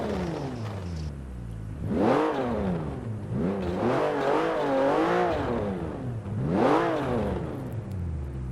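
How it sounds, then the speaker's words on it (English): A Porsche 992 Carrera S six-cylinder engine revs up and down in three rising and falling surges, loud and close, with a smooth, throaty tone. "It's a 6-cylinder engine."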